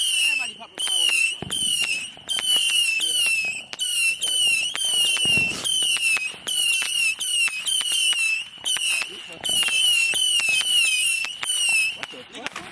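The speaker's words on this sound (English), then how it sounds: "Everybody popping fireworks." Consumer fireworks go off in rapid succession outdoors, a dense string of loud crackling bursts and whistling shrieks repeating with only brief gaps, with voices now and then.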